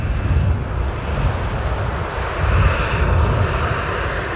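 An Atlas Air Boeing 747 arriving at Manchester Airport, a steady loud roar of jet engines with wind noise across the microphone, swelling slightly toward the end, with no talking.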